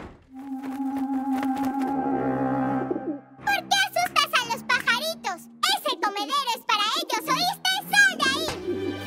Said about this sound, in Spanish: Un ¡pobre pájaro!